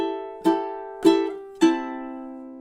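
Three strummed ukulele chords ring out in even time in a song's strumming pattern, each strum bright and close, decaying before the next.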